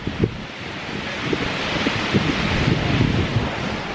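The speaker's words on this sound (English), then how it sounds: "The wind is blowing." Coastal wind at sunset blowing hard into the microphone, a steady loud rushing roar with soft low buffeting and no speech.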